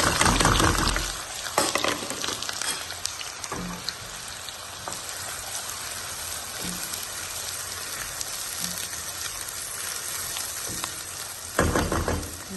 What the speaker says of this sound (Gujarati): આનિયનને હવે આપણે થોડી વાર સોતે થવા દઈશું.